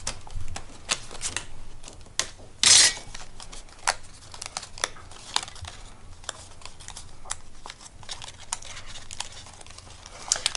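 Die-cut faux chipboard pieces with fine, intricate shapes pop free from their sheet in a scattered run of sharp little clicks and crackles, with one louder crinkly burst early on and no talking.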